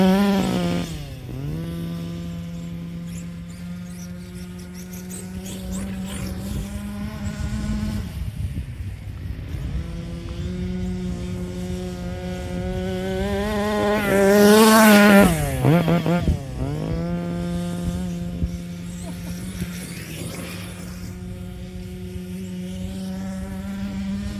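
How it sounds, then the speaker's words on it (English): A Rovan 360GT 1/5 scale RC sand buggy's small gas engine buzzes at idle, then revs up and down in repeated whining bursts, peaking in a loud scream before settling back. "This little motor runs so good, and it's going to be a ripper for sure."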